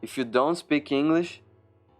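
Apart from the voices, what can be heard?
No distinct noise like a dog, phone or traffic.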